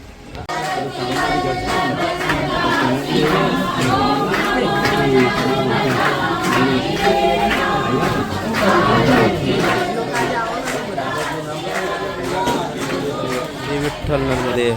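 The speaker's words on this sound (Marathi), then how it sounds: "ज्योतिजींच्या आश्रमात आज फार गर्दी आहे" A dense crowd fills a Narmada parikrama ashram with continuous loud babble, overlapping voices and calls close around, steady throughout.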